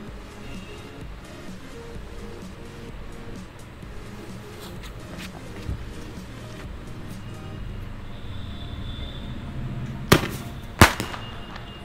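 A 30-shot Diwali firecracker goes off outdoors, two sharp loud bangs in quick succession near the end over a steady murmur of background noise.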